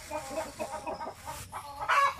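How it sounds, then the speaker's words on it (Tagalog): Chickens cluck in short, scattered bursts at a farmyard, fairly faint and a little distant, with no talk over them. "Ingay ng ating mga manok, no?"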